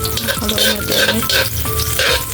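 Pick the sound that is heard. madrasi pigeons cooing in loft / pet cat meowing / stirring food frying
stirring food frying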